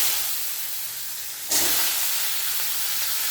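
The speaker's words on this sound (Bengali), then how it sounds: "সব সবজিগুলোকে দিয়ে ভাজা ভাজা করতে হবে।" Vegetables drop into hot oil seasoned with panch phoron, and a sudden loud sizzle bursts out halfway through. A steady hiss of frying then carries on close by, with no talk.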